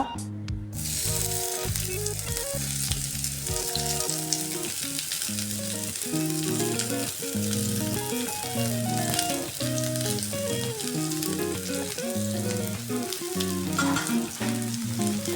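Onion sautéing in coconut oil in a pan for chicken kurma, a steady loud sizzle and crackle running throughout with no talking.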